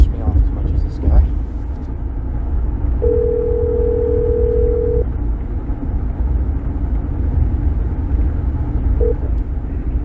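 A telephone dial tone sounds after a hung-up call, a single steady tone lasting about two seconds, then a brief blip later, over a constant low rumble like a car interior.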